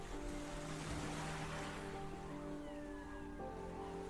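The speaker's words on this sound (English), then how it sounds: "the extraordinary Wadden Sea of the North Sea" Waves of the Wadden Sea on the German North Sea coast, a soft continuous wash of surf with low steady rumble and no voices, fairly quiet and even throughout.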